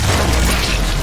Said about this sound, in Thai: อู้หูยอ้าวรถถังระเบิดด้วย